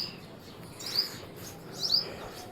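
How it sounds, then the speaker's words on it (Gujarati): A house sparrow chirps twice, brief high calls about a second apart, fairly faint over a quiet outdoor background. "ક્યાં ગઈ ચકલી? ચણતી હતી ને, ઉડી ગઈ લાગે છે."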